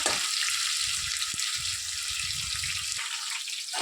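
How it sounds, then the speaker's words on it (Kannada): Onions frying in oil until golden give a steady, close sizzle with light stirring scrapes and brief low clatters partway through, and no talking. "ಈರುಳ್ಳಿ ಚೆನ್ನಾಗಿ ಗೋಲ್ಡನ್ ಕಲರ್ ಬರಬೇಕು ಅಲ್ಲಿವರೆಗೂ ಉರ್ಕೋಬೇಕು"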